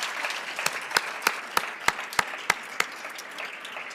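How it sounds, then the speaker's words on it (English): Sparse, fairly quiet applause for athletic coaches and staff at a scholar-athlete awards ceremony, a handful of distinct, evenly spaced claps standing out over a soft background patter. "Let's give them a round of applause for their support."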